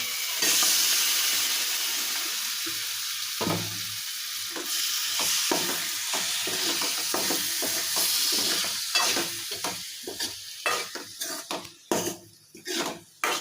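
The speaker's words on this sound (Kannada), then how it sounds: "ಈಗ ನಾನು ಚಿಕನ್ ಹಾಕಾಕತ್ತೀನಿ ನೋಡಿರಿ" Chicken hits hot frying masala in a pan for biryani, giving a loud steady sizzle and then a run of sharp spoon-against-pot scrapes and clinks as it is stirred.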